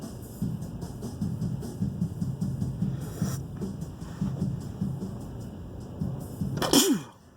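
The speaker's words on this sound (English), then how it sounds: "I got the sneezes." A single sharp sneeze bursts out near the end, after several seconds of low, rumbling background murmur.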